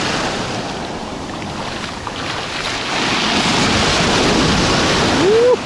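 Sea waves surge onto a beach in Turkey, making a loud, continuous roar of surf mixed with wind buffeting the microphone. The roar grows a little stronger partway through.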